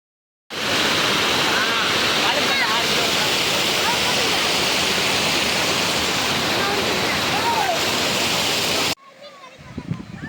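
After a day of rain, water rushes loudly and steadily into a lake, a dense roar close by. It cuts off abruptly near the end, leaving faint background sounds.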